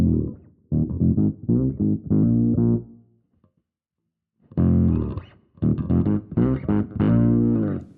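Synth bass tone played through a Fractal FM3 with the low pass filter removed, buzzy and distorted with a fizzy top end, two bursts of rhythmic chugging notes separated by a short silence, no voice.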